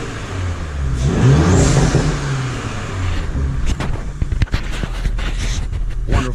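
An Audi B9 S4 engine revs up loudly nearby, the pitch rising and falling, then settles into a rough idle with sharp mechanical clicks.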